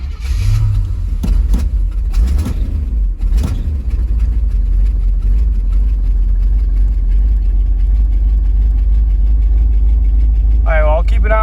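A third-generation Pontiac Firebird engine, fuel lines holding air after fuel sending unit work, cranks and catches, then settles into a loud, steady low idle close by, with brief talk over it.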